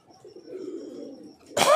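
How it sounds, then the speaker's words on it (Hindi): Pigeons at a pigeon-flying gathering coo softly and close by, then a sudden loud burst of flapping wings breaks out at the end as the birds take off. "ये कबूतर आए हैं बड़े अच्छे, एक से एक कबूतर"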